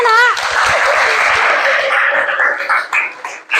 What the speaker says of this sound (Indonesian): beri tepuk tangan untuk temannya, Nak